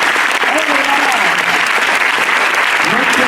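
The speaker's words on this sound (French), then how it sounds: "notre programmatrice, que je vous demande d'applaudir" Studio audience applauding in a live radio broadcast studio, steady dense clapping filling the whole stretch with a faint voice underneath.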